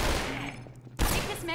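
Half-Life 2 gunfire in a quick burst, a dense run of shots with a sharp loud crack near the end, over continuous game noise and a brief voice.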